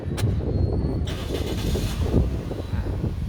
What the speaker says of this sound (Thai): บิดสตาร์ทครับ